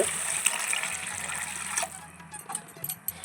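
Water pours into a pot of fish curry masala with tomato paste and potatoes, a steady close gushing splash that eases off partway through, leaving quieter bubbling and small splashes.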